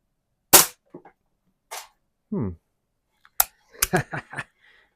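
A 1966 Walther LP53 air pistol fires at targets, giving a few sharp close cracks separated by pauses, with faint impact and handling clicks and a brief voice between shots.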